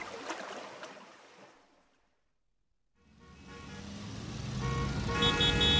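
Road traffic drones on a busy morning, fading away into near silence before the rumble returns louder and heavier, building steadily with a broad engine roar; horn toots are not clearly distinct.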